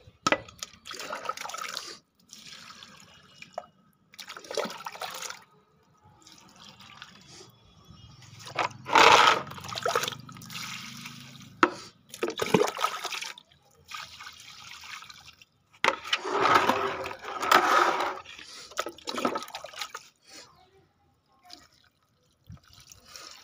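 Water from a bucket splashes and trickles onto potted plants, including coriander, in uneven bursts with quiet gaps between pours, close and moderately loud.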